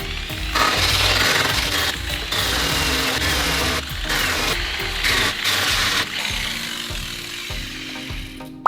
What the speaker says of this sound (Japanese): そしたら最後軽く研磨したいと思います。